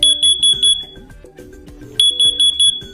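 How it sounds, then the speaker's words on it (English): A combined smoke and carbon monoxide alarm beeps loudly at 85 decibels in a T3 pattern, two bursts of four sharp, high-pitched chirps, with a pause between the groups. "you'll hear a loud 85 decibel T3 pattern chirp to alert you"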